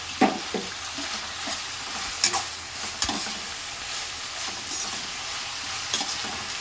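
Capsicum frying in a pan for lemon rice crackles steadily while a spatula scrapes and stirs in sharp, irregular strokes, close and moderately loud.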